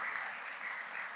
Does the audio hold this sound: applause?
yes